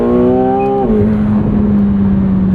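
2025 McLaren 750S with a 740 hp twin-turbo V8 pulling hard in first gear, a loud, close engine drone whose pitch slides down partway through, then settles into a steady roar.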